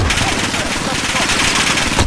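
Continuous automatic gunfire in a Road to Damascus map of a World War II shooter game with a Kar98k rifle in play, dense rattling bursts packed together over the full stretch with a voice shouting briefly underneath.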